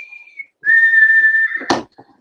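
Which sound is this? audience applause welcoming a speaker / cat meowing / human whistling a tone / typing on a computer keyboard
human whistling a tone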